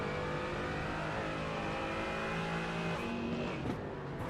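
GT4 race cars in a racing game at Oulton Park, engines droning loud and continuous with steady high-revving tones and a brief shift in pitch near the end.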